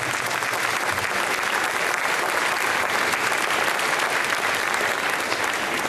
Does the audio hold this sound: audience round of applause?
yes